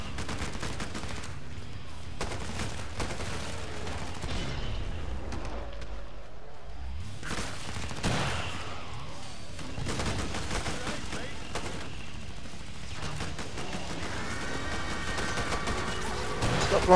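Bursts of gunfire from the video game Killing Floor 2 crackle in irregular volleys, with rapid automatic fire and single shots amid other in-game noise, at moderate level throughout.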